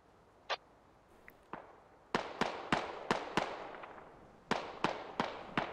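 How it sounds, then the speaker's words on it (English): Scattered gunshots from the village in the video game Squad, a few isolated cracks followed by a quicker run of sharp, fairly distant reports. "Some random pot shots in the village."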